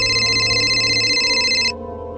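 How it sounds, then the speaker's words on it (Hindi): An electronic phone ringtone trills steadily for under two seconds, then stops abruptly, leaving a quiet background. "क्योंकि कॉल स्वास्तिक के नंबर से आ रहा था"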